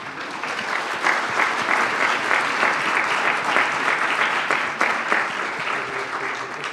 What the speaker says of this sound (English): Big round of applause, please, for our...